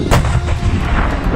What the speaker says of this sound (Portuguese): um tiro de um tanque operado por separatistas russos foi registrado no leste do país